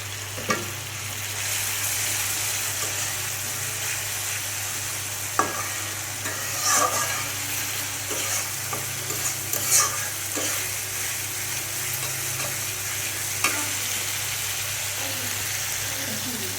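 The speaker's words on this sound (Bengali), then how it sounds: "একটু পানি দিয়ে দিলাম" Water poured into a pan of fried eggs sets off a loud, steady sizzle, with scattered clinks and scrapes of stirring.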